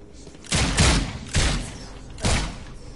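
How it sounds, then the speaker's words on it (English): Three loud bursts of gunfire ring out in The Sinking City, each a sharp volley followed by a short decaying tail, spaced about a second apart. "stop shooting me"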